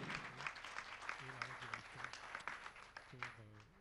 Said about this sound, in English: I'd like for us to give management and the board a round of applause